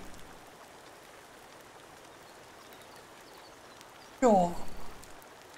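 Steady rain falls in the Sons of the Forest video game, a soft, even hiss that runs throughout the clip, briefly covered near the end by a short spoken word.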